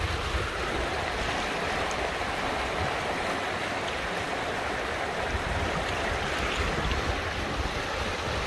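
A cold mountain river flows in a continuous broadband rush of water, steady and fairly close, with no voices over it.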